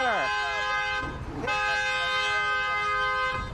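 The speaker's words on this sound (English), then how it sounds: "Honking does not help you." A car horn honks in a long sustained blast, briefly breaks off, then blares again, loud and close on a street during a heated argument over litter.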